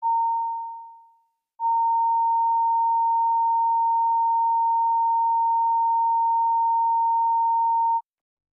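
A steady sine-wave test tone sounds during a committee room sound check, a brief fading beep followed after a short gap by a long, constant, clean pitch that stops abruptly, with nothing else audible.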